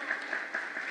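Applause from a Peruvian audience at a public working-table event, a continuous dense patter of many hands clapping at moderate distance, with no voices over it.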